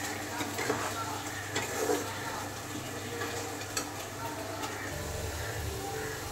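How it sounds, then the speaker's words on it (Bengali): Spice masala for mutton curry fries in a pan with a faint, steady sizzle, and a spoon scrapes and taps now and then as it is stirred. "মাটনের জন্য মশলাটা কষাতে শুরু করে দিয়েছি।"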